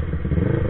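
A Yamaha R25 motorcycle exhaust gives off a rapid, crackling burst of pops and rumbles, loud and close during a short test ride.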